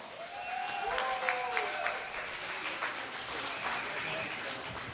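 An audience at a comedy night in a saloon applauds and cheers as a comedian takes the stage, steady crowd clapping with a few whoops, while a host's voice rings out over the noise.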